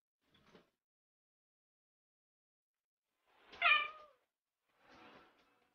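A cat meows once clearly near the middle, a short tonal call, with a couple of fainter brief sounds before and after in an otherwise quiet room.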